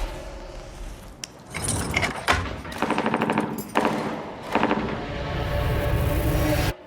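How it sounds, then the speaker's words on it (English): Gunfire in a film scene set in a control room, several sharp bursts of rapid shots crackling loud in clusters with pauses between them. "Were those gunshots?"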